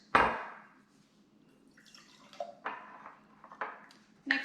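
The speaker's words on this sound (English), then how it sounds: "We're going to pour our water first." Water splashes and trickles into a container in short uneven bursts, close up, with a few light clinks of glass.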